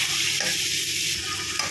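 Chopped onion, garlic and green chilies frying in hot oil, producing a loud, continuous sizzle close by, with a couple of brief stirring scrapes.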